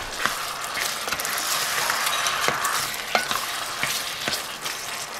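Orange spareribs in a nearly dry gravy sizzle in a pan while being mixed, the hiss steady and close with repeated sharp clicks and scrapes of the utensil against the pan.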